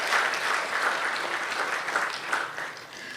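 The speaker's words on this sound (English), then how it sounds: "Let's give him a warm round of applause" An audience claps in a warm round of applause at a 75th birthday celebration for a pandit, a dense, sustained patter of many hands lasting a few seconds.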